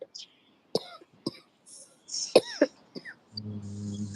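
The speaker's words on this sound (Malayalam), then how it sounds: "ചുമ, എനിക്കും ചുമ ഉണ്ട്, അതാ പ്രശ്നം" A few scattered coughs and throat-clearing sounds, moderately quiet and close, followed by a low hum at the end.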